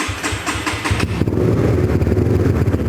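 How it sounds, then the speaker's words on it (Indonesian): A custom Honda CBX 150 motorcycle engine idling close by, a steady deep bassy thrum with a slightly uneven pulsing rhythm that thickens after the first second. "kita akan cobain suara dari motor CBX 150 yang kita custom."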